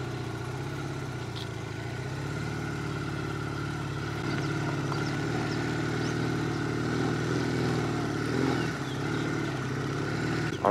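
Motorbike, not a dirt bike, riding slowly onto a dirt trail in Surat Thani, Thailand, a steady mid-pitched engine drone with some clatter and bumps, fairly close and continuous with no talking.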